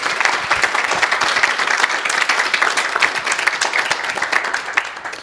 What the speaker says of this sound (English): I think everyone would like to give a round of applause.